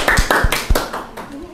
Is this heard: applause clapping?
yes